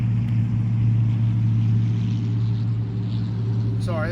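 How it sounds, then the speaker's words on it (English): Loud trucks rumbling past near a disc golf course, a steady heavy low engine drone that stays constant throughout, with a brief faint voice at the very end. "Sorry, there's loud trucks."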